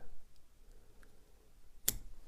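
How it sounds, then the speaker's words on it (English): One sharp, close snip of scissors cutting foam at a fly-tying bench while tying a skwala stonefly dry fly, a single crisp click against a quiet background. "So I'm going to snip that"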